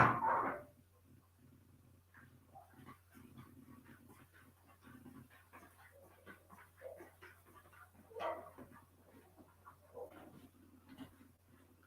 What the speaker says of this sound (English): Let me take these dogs out.